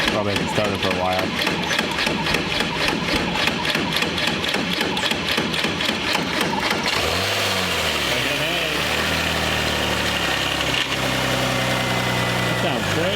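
A 2007 Porsche 911 Carrera engine idles with a steady, throaty rumble throughout, while a person talks over it.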